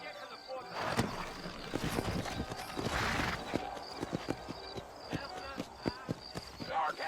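A horse clip-clops along at a steady trot in the Western video game Red Dead Redemption, with even hoofbeats throughout and voices talking over the riding.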